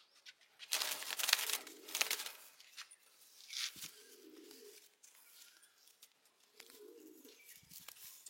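Red-patch pigeons coo in a loft: two soft, low rolling coos close by, after a burst of rustling and crinkling at the start.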